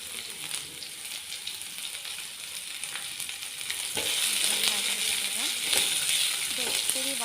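A medium onion frying in a pan of oil for cauliflower masala curry, a steady hiss and crackle with occasional stirring scrapes and clinks, close up and growing a little louder partway through.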